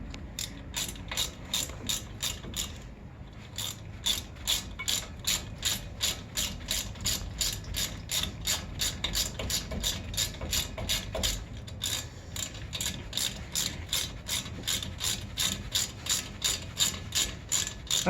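Ratchet clicking steadily as brake caliper bolts are tightened on a 2011-2018 Volvo S60/V60, long runs of rapid, even clicks close by with a brief pause partway through, no voices.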